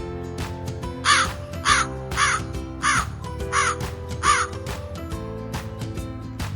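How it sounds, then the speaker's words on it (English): A crow caws six times in a regular, loud series of harsh calls, heard over a steady background of music. "Crow, crow."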